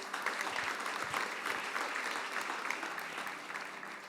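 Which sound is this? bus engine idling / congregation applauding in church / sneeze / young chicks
congregation applauding in church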